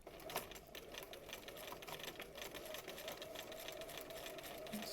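A sewing machine stitches a paper-pieced quilt block in one steady, fast, continuous whir, with no pauses and no talk.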